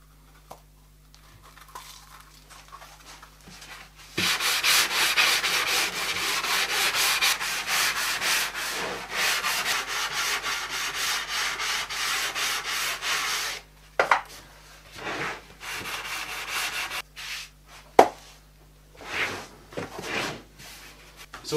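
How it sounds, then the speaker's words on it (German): Fine hand sanding smooths the rounded wooden edges of a homemade table hockey game. A steady rubbing scrape runs for about ten seconds, then breaks into shorter strokes and light knocks. "So, die Kanten, die sind jetzt abgerundet, wird natürlich nachher noch fein geschliffen."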